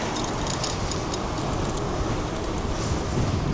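Steady, loud wind roars and buffets a microphone outdoors, with a broad rumbling low end and constant hiss throughout, no speech.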